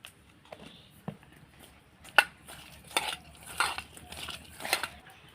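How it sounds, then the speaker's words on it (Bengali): Tengra fish being mixed by hand with salt and turmeric powder in a dish, giving quiet, scattered clinks and soft scrapes with a few sharper knocks against the dish. "দিয়ে ভালো করে মাখিয়ে নিচ্ছি"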